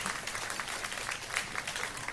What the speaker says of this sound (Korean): 우리 박수로 한번 환영해 주시기 바라겠습니다.